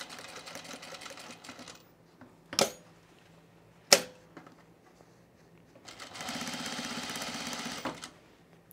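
A sewing machine runs through thick knitted fabric with reduced presser-foot pressure, giving a short burst of stitching, two sharp clacks, then a longer steady run.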